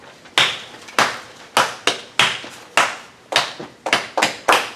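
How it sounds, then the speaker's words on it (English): Hands clap a simple rhythm, about a dozen sharp, close claps in an uneven pattern with short pauses, loud and alone. "I'm going to clap a simple rhythm"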